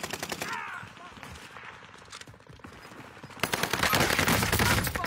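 Video game gunfire crackles in rapid bursts, with a heavier, denser volley building toward the end, while a player talks quietly at times.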